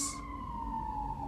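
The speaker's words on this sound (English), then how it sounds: "I'm going to let that siren pass." An emergency vehicle siren passing outside wails as a steady, sustained tone, moderately loud and alone, with a brief hiss at the start.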